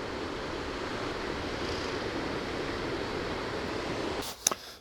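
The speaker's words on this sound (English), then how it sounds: "A waterfall by night." A waterfall at night during a winter wild camp rushes as a steady, full broadband roar, continuous and close, with a couple of brief knocks near the end.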